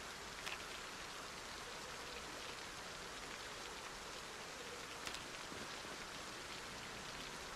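Steady rain in the zombie survival game Project Zomboid, a dense even hiss of falling drops with a couple of faint taps, continuous and moderately loud with no voices.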